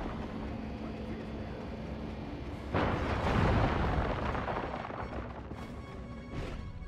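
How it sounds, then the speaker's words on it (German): A loud, rumbling explosion in the game Destroy All Humans remake bursts in partway through, swelling into a long crackling roar before fading back to a steady hum. "Ist der jetzt explodiert, ohne dass ich was gemacht habe?"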